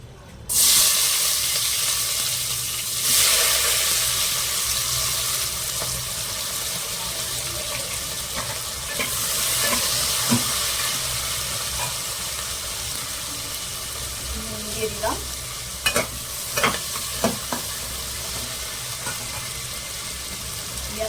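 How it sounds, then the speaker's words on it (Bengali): Onions fry in hot oil left from frying potatoes, a steady loud hiss and sizzle that fills the pan, with occasional spoon scrapes and clinks toward the end. "এবার তেল দিলাম এবার এখানে দিয়ে দেবো আমি পেঁয়াজ আগে পেঁয়াজটাকে একটু ভেজে নেবো"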